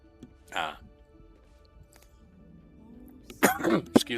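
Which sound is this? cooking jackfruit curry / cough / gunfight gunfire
cough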